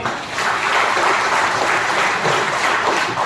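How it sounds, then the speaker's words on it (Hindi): Loud, dense audience applause at a Modicare motivational seminar, a continuous even roar of many clapping hands with no voices over it. "सबके लिए एक बार जोरदार ताली"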